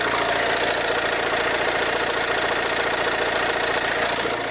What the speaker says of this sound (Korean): 엔진 소리가 굉장히 힘있는 디젤 사운드입니다